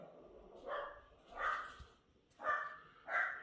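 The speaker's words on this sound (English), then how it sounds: "Oh, we have dogs." Dogs bark indoors in a house, four separate barks spaced out at moderate distance over a quiet background.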